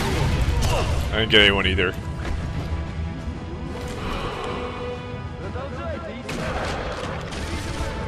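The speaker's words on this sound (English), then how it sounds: "Grenade spam!" Grenade explosions and rapid gunfire in the shooter game Sniper Elite V2, loud crashing blasts and volleys layered under continuous excited talk.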